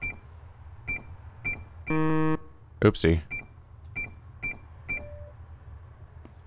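An alarm keypad in the video game INFRA beeps in short, evenly spaced electronic tones as it is disarmed, with a longer buzzing tone and a brief spoken remark mid-sequence.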